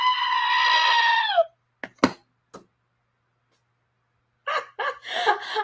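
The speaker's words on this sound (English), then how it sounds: "We just need a funny goat screaming." A goat gives one long, loud, wavering scream, followed by a few short sharp knocks and then another burst of rough, choppy bleating after a silent pause.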